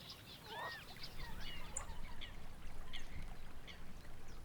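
A grey-headed swamp hen calls from delta reeds in a series of short honking, quacking notes over a steady ambient wash, moderately faint and irregularly spaced.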